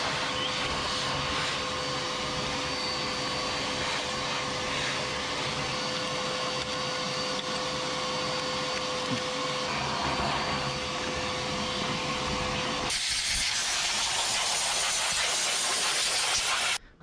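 A long, steady aerosol hiss as brake cleaner is blasted onto a 1976 GMC Sierra, continuous and close for most of the clip before the spray tone shifts brighter and then cuts off abruptly.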